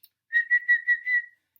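A single person whistles a short, bright, steady tune of about five connected notes at close range, used to show the tongue position for playing the clarinet, with no talking.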